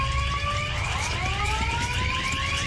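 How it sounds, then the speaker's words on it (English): Electronic alarms wail continuously inside a building while officers clear the ground-floor rooms, with steady high-pitched tones that rise and fall over a rumbling background. "The alarms are going crazy as the officers move from one room to the next"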